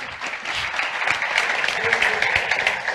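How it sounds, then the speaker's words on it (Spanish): Audience applause at a talk on video game writing and cinema, welcoming a game writer and screenwriter to the stage: a dense, steady wash of many hands clapping for about three seconds, loud and continuous, with no voices over it. "Qué guay que eso me aplauda cuando no he hecho nada"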